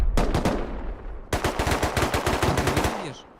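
Automatic gunfire in the survival game Rust, aimed at a turret: a short rapid burst, a brief pause, then a longer loud volley of sharp, evenly spaced shots that ends abruptly.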